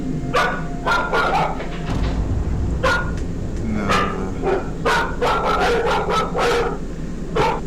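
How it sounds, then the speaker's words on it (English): Two dogs resting in a living room bark, yip and whimper in repeated bursts, caught loud and close by a home security camera over a low background hum. "Dogs Frank and Max suddenly get spooked by something"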